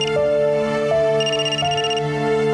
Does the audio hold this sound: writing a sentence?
no